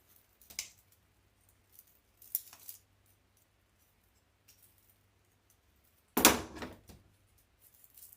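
Scissors snip through felt in a few short, separate cuts, sharp and close, with quiet stretches between and one louder crunching cut near the end.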